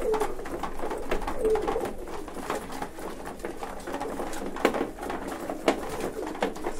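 Vienna pigeons coo softly and repeatedly against a busy mechanical clatter, with no talking.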